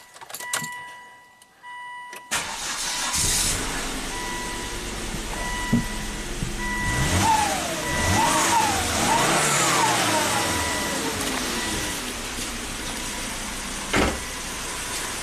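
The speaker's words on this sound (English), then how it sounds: "So it's still misfiring, but it sounded better, right?" A misfiring Volvo turbo engine cranks, catches and runs at close range, its idle uneven and surging, with light rattling and a brief knock near the end.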